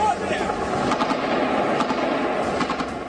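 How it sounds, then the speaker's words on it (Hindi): Rapid gunfire crackles in dense, continuous bursts with some heavier thuds mixed in, loud and sustained over a background of commotion during a drone attack on Kyiv. "काफी देर तक गोलियों और धमाके की आवाजें आती रही।"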